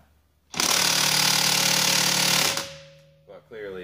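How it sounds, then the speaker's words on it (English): A high-end electric impact gun rattles loud and close on a car's wheel nuts in one continuous two-second hammering burst, then winds down, followed by a brief voice. "this is like the most expensive, nicest electric impact gun I could find"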